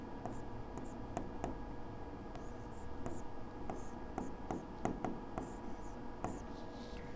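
Pen writing on paper, a quiet close scratching with short strokes and small taps in an irregular rhythm, soft and continuous.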